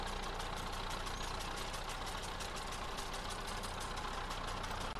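An IMT 560 tractor in Farming Simulator 22 idles steadily, a constant low engine drone with no speech, heard close and continuous throughout.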